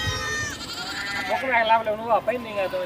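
Goats at a market in Gudur bleat in wavering, drawn-out cries, several calls overlapping, with people talking nearby.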